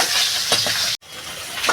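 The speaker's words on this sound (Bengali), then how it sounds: "আমি এই মাছটা আমার নাতির জন্য ভাজছি" A single piece of rohu fish frying in hot oil, a close, lively sizzle with a couple of stirring scrapes and a brief break midway, no talk.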